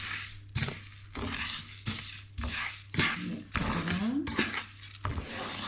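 Seeds being stirred through hot oil in a pan make repeated scraping and clinking strokes of a utensil against metal, with a light sizzle underneath, close and fairly steady.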